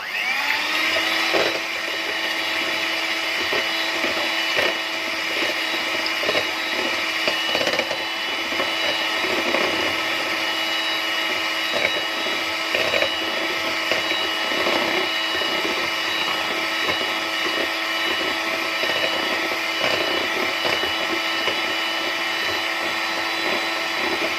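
An electric mixer whirs steadily as it beats eggs with water for an easy budget cake, a constant high motor whine with slight wobbles in pitch, running alone for a long stretch.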